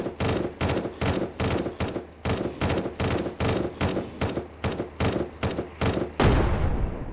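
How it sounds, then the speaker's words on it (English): Grenade blast in the SurrounDead video game, arriving after a rapid string of about a dozen sharp, evenly spaced gunshots, then one loud, booming explosion with a rumbling tail. No one speaks. "Not a bad grenade throw"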